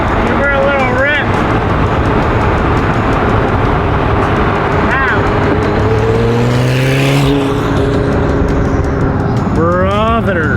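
Car engine revved hard on the spot, loud roaring rev sweeps rising and falling several times, close and continuous, with people talking and exclaiming around it.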